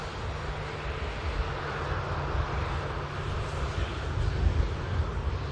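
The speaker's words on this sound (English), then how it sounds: "Ryanair 737 MAX coming in as well" A Ryanair Boeing 737 MAX airliner arriving at Manchester Airport, a steady jet rumble at moderate distance that swells slightly near the end, with wind noise and no talk.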